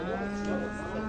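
A pregnant cow at a livestock market gives one steady, loud moo, heard nearby over general market background noise.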